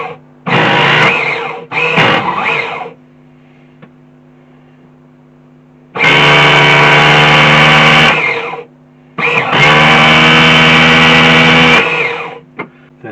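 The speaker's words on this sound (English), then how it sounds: "Let's see if it just pulls some up just by turning it over." A Flying Point Probe VXI nitro RC car engine is turned over by an electric starter in four loud buzzing bursts of one to three seconds each, separated by near-silent pauses.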